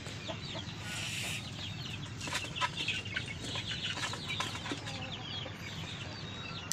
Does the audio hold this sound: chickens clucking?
yes